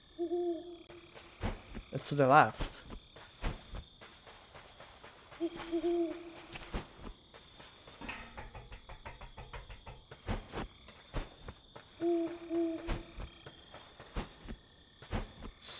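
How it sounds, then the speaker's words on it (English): Owl hooting in the fantasy game Death's Door, a low two-note call that repeats three times at steady intervals under quiet ambient game sounds, with a brief voice speaking between hoots. "I noticed I can hear the owl"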